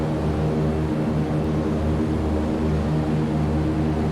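DC-3 airliner piston engines in X-Plane roar steadily at takeoff power, a dense continuous drone with a low throbbing hum and no pause.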